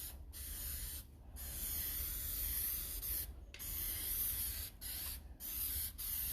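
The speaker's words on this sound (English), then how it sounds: "I'm gonna spray some of this stuff in there" Several bursts of aerosol spray hissing close up over a charcoal drawing on paper, loud and steady, separated by brief pauses.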